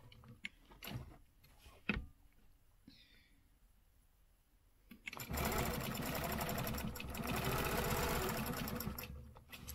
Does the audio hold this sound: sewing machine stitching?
yes